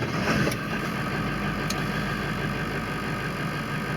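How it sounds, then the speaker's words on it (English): Steady, even idle from a cold Ford 7.3 Power Stroke diesel truck engine, a close, continuous rumble with no rise or fall in speed and a couple of faint ticks near the start. "No fluctuating of the idle."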